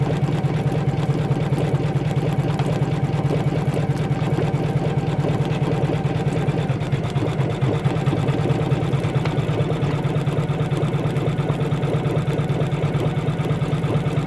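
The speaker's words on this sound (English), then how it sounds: "there really is something incredibly soothing about the sound of a machine working beautifully" An embroidery machine stitches a design onto a towel, its fast needle chatter running as a dense, even, continuous buzz close up with no talk over it.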